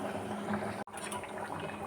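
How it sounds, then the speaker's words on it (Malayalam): A pot of cucumber and green mango curry with cumin and shallots bubbles steadily, giving a continuous soft simmering sound close by with a brief dropout partway, and no one talking. "കറി നന്നായി തിളച്ച് പാകമായി"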